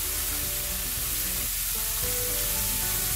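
Seasoned steak sizzles steadily in a hot frying pan, a continuous close crackle of fat with no talking over it.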